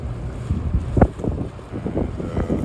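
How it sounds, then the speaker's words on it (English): Dual-engine Boston Whaler center-console boat passing on the water in Fort Lauderdale, a steady engine rumble mixed with wind buffeting the microphone and splashing water. "So you got this Boston Whaler coming in, dual engine."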